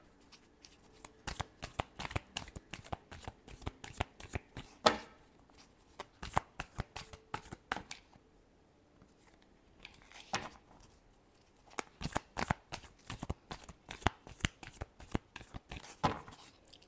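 Tarot cards are shuffled by hand in rapid riffling bursts, close and crisp, with a short pause midway before the shuffling resumes; there is no talking.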